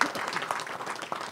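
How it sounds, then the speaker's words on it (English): An audience claps for a coalition at a city announcement about rebuilding seismically vulnerable hospitals, a fairly faint, steady patter of applause heard at some distance. "Let's give the coalition a big round of applause."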